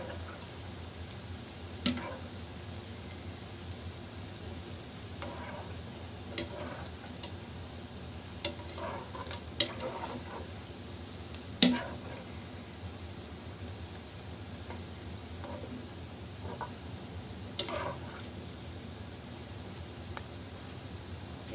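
Small banana pitha cakes frying in a pan, giving a steady, quiet sizzle throughout with occasional faint ticks and scrapes as the cakes are turned, close up and without speech.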